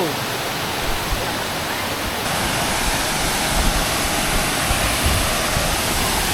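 Clear mountain stream water from Mount Banahaw rushes steadily at a resort in Majayjay, Laguna, making a loud, continuous, even hiss of flowing water close by.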